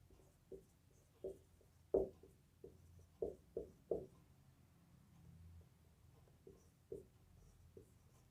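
Writing during a history lesson: sparse, quiet, short taps and strokes spaced irregularly in a hushed room, with no talking.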